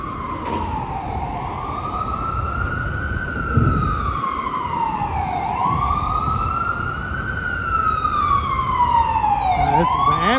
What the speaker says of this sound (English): this is an ambulance from the fire department.